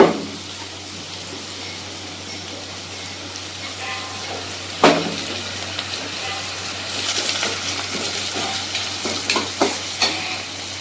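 Green chillies fry and sizzle in hot oil in a pan, a steady hiss throughout with a sharp clatter as they drop in and crackling that builds toward the end.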